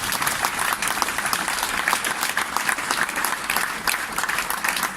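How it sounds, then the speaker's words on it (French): A festival audience at an opening ceremony applauds steadily, dense sustained clapping from many hands filling the space at a consistent, lively level throughout. "applaudissez-les avant aussi"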